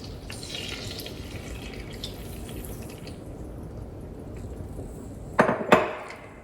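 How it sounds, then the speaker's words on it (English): Pineapple juice pours into a pan holding reserved meatball drippings and oil, a steady soft liquid stream, then ends with two sharp clinks of utensil or container against the pan. "Now slowly pour in your pineapple juice."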